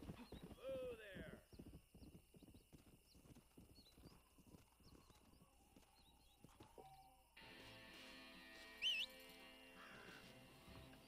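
A horse in the Western video game Red Dead Redemption runs at the player at full speed, with a quick run of hoofbeats up close, then a whinny. Someone talks over part of it and a crow caws in the background.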